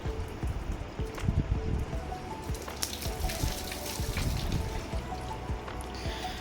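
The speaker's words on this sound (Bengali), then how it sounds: "এখানে বসে বসে বসে মাংসটা ভালো করে ধুয়ে নিচ্ছি" Meat is washed under running tap water: a steady, fairly quiet splashing stream with scattered drips and light clatter, and no voices.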